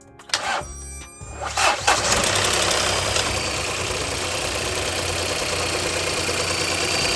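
A wrecked Volvo car's engine cranks and catches after a couple of short tries, then settles into a steady, close idle that runs evenly to the end.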